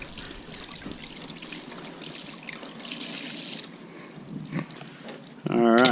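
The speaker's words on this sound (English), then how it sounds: "just go ahead and run it through some water here" Tap water trickles and splashes over a saltwater white surf perch being rinsed to loosen its scales, a steady close stream that thins out near the end before a voice begins.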